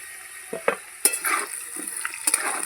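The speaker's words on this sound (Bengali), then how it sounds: "আলুটা আমি ভালো করে লাল লাল করে ভাজবো" Potatoes sizzle in a pan while a spatula scrapes and turns them in several quick strokes, the frying hiss continuing underneath.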